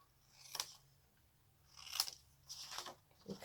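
Scissors cutting paper pieces for a double box craft project, a few crisp close snips, one single and then a quick cluster, with no talking.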